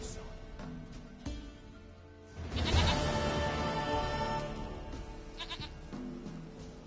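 A goat bleats in The Witcher 3, its calls set over in-game ambience and music, with a louder burst around the middle before things settle again.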